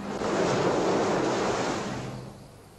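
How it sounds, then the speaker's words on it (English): Wind sweeping over the roof tiles of a solid old stone house in an animated film, a broad rushing roar like surf on a shore that swells steadily and then slowly fades away. "the wind on its tiles sounded like the sea upon the seashore"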